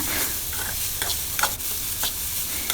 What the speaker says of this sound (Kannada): ಈಗ ಇಲ್ಲಿ ಒಂದು ಕಪ್ಪಾಗುವಷ್ಟು ತೆಂಗಿನ ತುರಿನ ತಗೊಂಡಿದ್ದೀನಿ ಇದನ್ನು ಸ್ವಲ್ಪ ಹೊತ್ತು ಚೆನ್ನಾಗಿ ಫ್ರೈ ಮಾಡ್ಕೊಳ್ಳೋಣ